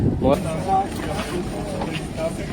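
A boat moves across the water on a delta trip, with a steady wash of wind and water noise and a low engine rumble, while a person talks over it.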